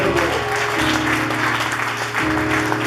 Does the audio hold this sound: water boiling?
no